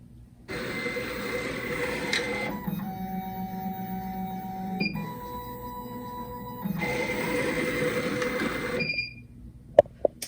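A key cutting machine runs its cutter during calibration, a steady mechanical whir with a tonal hum in the middle section and a few short clicks as it winds down.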